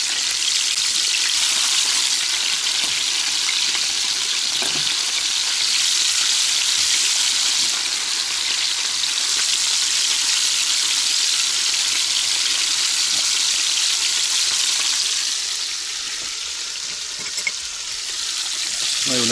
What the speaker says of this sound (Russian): Если хорошенечко прогреть масло, то и без муки рыба не пристанет к сковородке